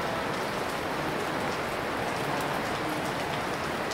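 Steady rain falling during a trip through Morocco, a dense, continuous hiss of drops pattering on surfaces at an even level with no voices.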